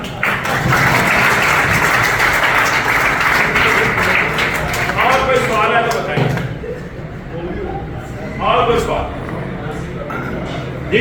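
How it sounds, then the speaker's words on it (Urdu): A lecture audience bursts into loud, dense clapping that fades after several seconds, with a voice briefly speaking over the tail end. "پھر تالیاں."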